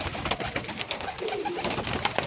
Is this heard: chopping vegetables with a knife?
no